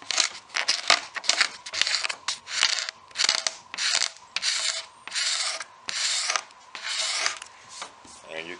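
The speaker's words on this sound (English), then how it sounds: "We're just going to scrape off the excess." Excess filler being scraped off a repaired gouge in a cherry table top, a run of loud, gritty rasping strokes in a steady back-and-forth rhythm, close up.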